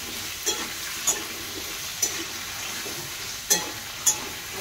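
Potatoes frying in plenty of oil in a pan for a fish curry, a constant close hiss and sizzle broken by five sharp spatters or pops spaced roughly a second apart.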